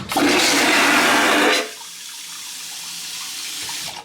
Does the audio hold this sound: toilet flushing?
yes